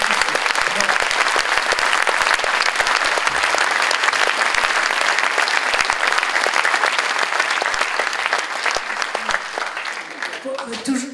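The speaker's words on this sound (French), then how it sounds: "Donc on peut applaudir Marianne Blaillot qui a initié ce dispositif." Sustained loud applause from a concert audience at a school orchestra performance in Gorron, dense clapping that fades slightly toward the end.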